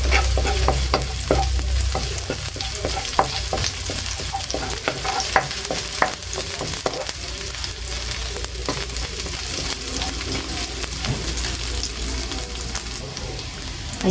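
Onions sizzle steadily in a hot frying pan, with a spatula stirring and scraping against the metal throughout; no one speaks.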